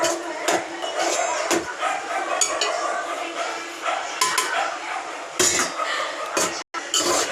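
Spice powders, including garam masala, mutton masala and chilli powder, sauté in a pan for a radish mutton curry, with a spatula scraping and clanking against the metal up close and a brief silent gap near the end.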